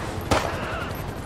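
A single gunshot fires in GTA 5 during a police bike chase, one sharp, loud report rising out of a steady bed of game engine and traffic noise, with a brief tail.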